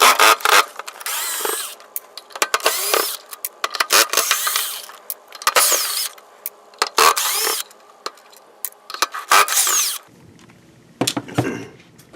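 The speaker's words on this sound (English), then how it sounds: "you're going to want to take out these 6 screws right here" Six screws being backed out of the bottom of an original Nintendo NES console with a power driver: repeated loud, close whirring bursts of a second or two, separated by brief pauses and small clicks of plastic and metal.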